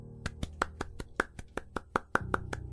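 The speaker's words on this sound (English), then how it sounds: "Mordecai just starts applauding." A single listener claps by hand in a slow, steady series of about a dozen crisp, close claps, with no talking over them.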